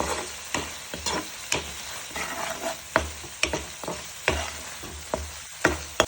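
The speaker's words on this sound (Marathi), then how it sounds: "मिक्स करून घेऊ सगळं" A spoon scrapes and stirs a matki and peas mixture in a hot pan, giving regular close knocks and scrapes about once a second over a steady low sizzle, with no talking.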